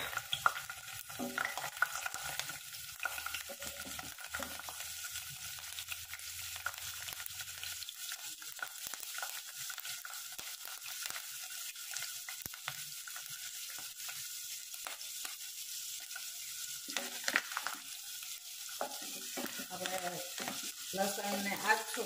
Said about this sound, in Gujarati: એમાં આપણે લસણ નાખી દઈશું.